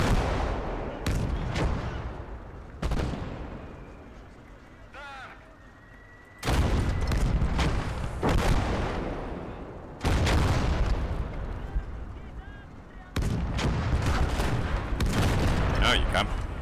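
Gunfire and artillery from the World War II game Call to Arms: Gates of Hell, Russian campaign: loud bursts of shots and booming blasts come in several heavy waves between quieter gaps, with speech mixed in.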